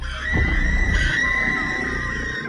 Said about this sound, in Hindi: चारों ओर से कई लड़कियों की डरावनी चीखें गूंज उठी